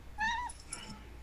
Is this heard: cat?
yes